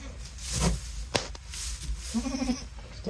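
Goats on a farm, unsettled by a newcomer, with a few close, loud bleats, one short and one longer wavering call, among small thumps and shuffling.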